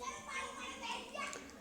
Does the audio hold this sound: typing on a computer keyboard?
no